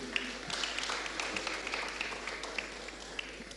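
Audience at the 2019 ICT Fair in Eswatini applauds, a steady wash of distant clapping at moderate level with a few sharper claps.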